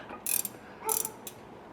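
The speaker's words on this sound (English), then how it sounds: "Ratchet." Ratchet wrench clicking during work on 1988 Porsche 911 shifter and pedal bushings: a few short bursts of quick clicks, fairly close, with quiet gaps between them and no talk.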